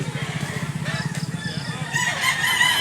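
A rooster at a poultry sale in Mantalungon, Cebu, crows loudly and close by in one long drawn-out call over rhythmic clucking, with other birds faintly in the background.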